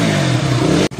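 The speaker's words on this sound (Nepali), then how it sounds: "नयाँ ब्याट्री हालेपछि बाइक स्टार्ट भयो है" A motorcycle engine, just fitted with a new battery, runs and revs loudly nearby in a steady roar that cuts off abruptly near the end, then returns more quietly.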